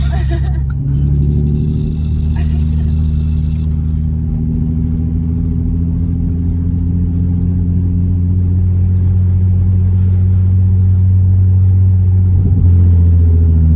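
A Nissan 350Z with a manual gearbox rumbles steadily at low revs, close and loud, its engine note holding fairly even with a slight rise near the end while people talk over it.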